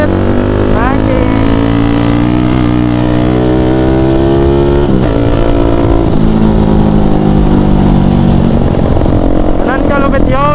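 A Suzuki Raider 150 motorcycle fitted with an SC Project open-pipe exhaust revs loud and close, its raspy note rising and falling through several throttle blips over a continuous engine rumble.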